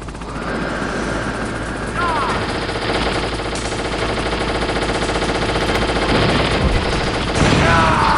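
Rapid gunfire rattles continuously in the Metal Gear Solid video game during a fight with Liquid Snake, mixed with a helicopter's whirring drone, dense and loud throughout.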